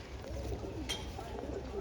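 Pigeons coo softly nearby, a low repeated burbling with a brief higher call, while someone talks over them.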